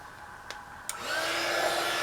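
Heat tool for embossing a die cut switches on after two small clicks and blows a steady, close airy whir with a faint motor hum.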